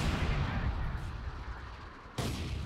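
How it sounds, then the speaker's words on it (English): Light artillery barrage in Company of Heroes 2 shelling a forward assembly: a continuous low rumble of distant blasts, with a sharper crack of a fresh impact near the end. "we see another light artillery barrage on the forward assembly there"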